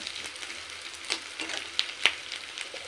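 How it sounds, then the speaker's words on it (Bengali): Onion and capsicum sizzle steadily in a pan while being stir-fried, with a few sharp scrapes and clicks of the spatula rising above the constant frying hiss. "ক্যাপসিকাম পেঁয়াজও আরও কিছুক্ষণ একটু নেড়ে নিলাম।"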